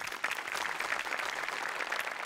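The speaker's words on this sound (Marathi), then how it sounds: "मोठे आणि अमोल पाटलांसाठी एकदा टाळ्या वाजव्या." Audience applause from a live comedy show crowd, steady dense clapping throughout at moderate volume, with no voices over it.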